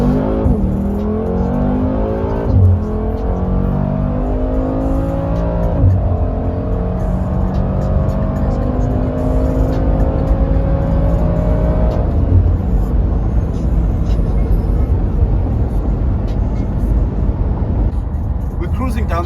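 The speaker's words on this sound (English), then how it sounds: "This is the 4-liter twin-turbo V8 that pushes out more than 400 kilowatts and 850 Newton meters." A 2022 Mercedes-AMG G63 with a 4-liter twin-turbo V8 pulls away through several gears, its engine note rising and dropping with each shift, loud and close from inside the cabin before settling into a steady cruising drone.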